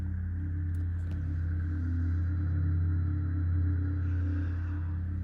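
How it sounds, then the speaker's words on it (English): A Porsche Taycan's electric sport sound heard from outside the car, a steady low synthetic hum with layered tonal drones, continuous and even throughout, with no voices. "can you hear that space age sound outside?"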